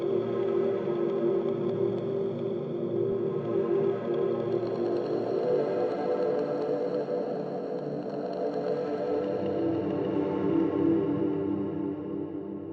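A spooky 'bone' pad preset from the Doomsday Serum pack for the Serum synth: a sustained, dark, droning tone with layered harmonics that slowly shifts and swells, heard alone without talk.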